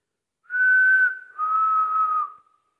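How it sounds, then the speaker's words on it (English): A person whistles two sustained, steady notes in a quiet indoor room, the first slightly higher and the second a touch lower, with a short gap between them and no other sound. "If I whistle, can you whistle back?"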